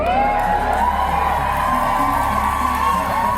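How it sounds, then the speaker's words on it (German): A large audience cheers, whoops and applauds in sustained, dense waves at a public speech by Nan Goldin, the crowd noise loud and continuous throughout. "Einerseits erhält Nan Goldin immer wieder frenetischen Beifall aus dem Publikum."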